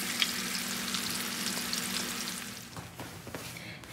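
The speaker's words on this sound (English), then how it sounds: "And I always rotate my patty. Some sides of the pan get higher than others." Burger patties fry in a pan with a steady, dense sizzle close by; the crackle carries on without break and eases a little near the end, with no voices.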